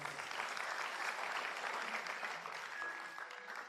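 Quiet, distant audience applause at a motivational seminar, an even, steady patter of many hands clapping with no voices over it.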